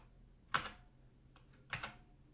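Two quiet, isolated key presses on a computer keyboard, spaced about a second apart, with no talking.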